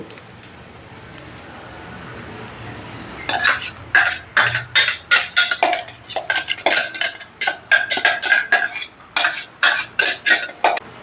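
After a quiet start, a spoon scrapes and knocks around a pan of gongura and dried prawn curry in quick, repeated strokes, a brisk stirring rhythm that continues to the end.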